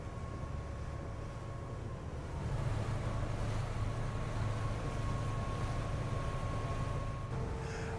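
A Greenline 40 hybrid boat cruising flat out on electric power, with a steady low hum, soft wind and water rush throughout, and a faint tonal whine that shifts near the end.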